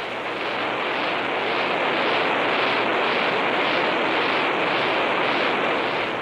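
An X-15 rocket engine roars through a ground test run, a loud, steady, unbroken blast of broadband noise with a slight pulsing throb across the whole span.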